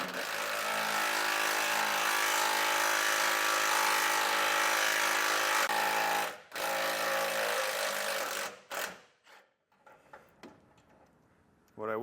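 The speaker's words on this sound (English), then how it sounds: "So we'll get them pre-drilled first." A power drill whines steadily as it pre-drills screw holes in a 2024 Ford truck body during an air suspension compressor install, cutting out briefly, then stopping with faint handling noises after.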